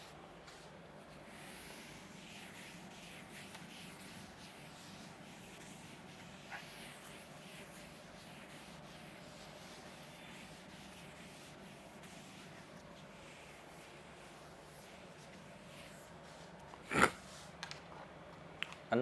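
A duster rubs chalk writing off a classroom board during a chemistry lesson, a faint, steady scraping that continues for about sixteen seconds, followed by a few soft knocks.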